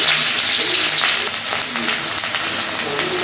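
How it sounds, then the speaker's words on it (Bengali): Chopped onion sizzles in hot Fortune refined oil in a kadai, a loud bright crackling hiss that settles slightly after a moment, with faint stirring underneath. "একটা পেঁয়াজ কুচি দিয়ে দিলাম"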